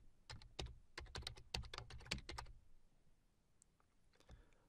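Quick, crisp keystrokes on a computer keyboard while a PowerShell command is entered, in dense close bursts for about two seconds, then a few sparse taps fading out.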